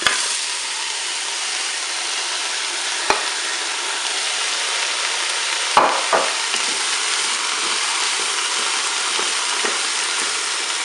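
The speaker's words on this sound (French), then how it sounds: "Je vais maintenant ajouter les rondelles de poireaux." Sliced leek rounds sizzle steadily in the hot pot of a Cookeo multicooker, a loud continuous frying hiss with a few faint stirring knocks and scrapes near at hand.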